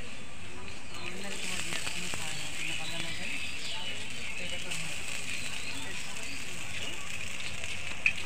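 Chowmein noodles fry in a pan with a steady, close hiss and faint crackle running throughout, moderately quiet, with a few light clicks and no clear talking.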